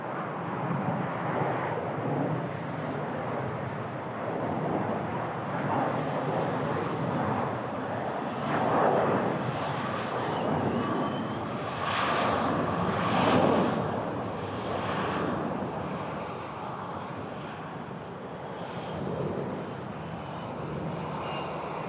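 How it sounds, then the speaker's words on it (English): A LOT airliner rolls for an early takeoff at Toronto Pearson airport, its engine roar a broad, steady rumble from a distance that swells slightly midway, with wind buffeting the microphone. "LOT's about to do an early takeoff."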